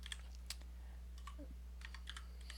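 Keys clatter on a new computer keyboard in quick, irregular taps, faint and close over a steady low electrical hum, with no talking.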